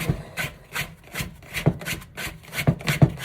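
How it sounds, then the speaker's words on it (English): A small plastic bench scraper drags around the inside of a bowl while dough is mixed, giving soft rubbing scrapes in an uneven rhythm of about eight strokes, close up and fairly quiet with no talking. "this is my bench scraper, little plastic one to go along the contours of the bowl"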